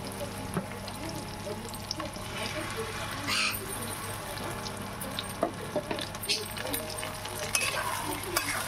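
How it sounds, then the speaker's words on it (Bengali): A spice paste is added to fried onions in a pan for a chicken curry, making a soft, fairly faint sizzle with scraping stirring strokes and occasional sputters. "দিয়ে ভালো করে নাড়াচাড়া করে নেব।"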